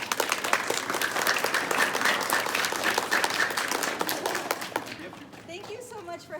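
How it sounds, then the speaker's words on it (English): At a school concert, an audience claps for a family string duo, a brisk patter of many hands that fades out near the end as voices start up. "Let's give them a round of applause."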